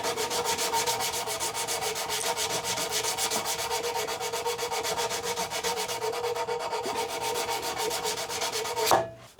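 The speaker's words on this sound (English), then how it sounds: "if you actually get a bit of sandpaper and wrap it around your file, you can kind of get that profile" Sandpaper wrapped around a file rubs steadily over a mass-produced wooden saw handle being re-profiled, a close, continuous rasping stroke pattern that runs unbroken for several seconds before stopping abruptly.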